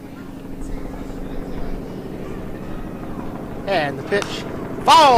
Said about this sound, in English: We have a Huey helicopter coming overhead, making all that noise.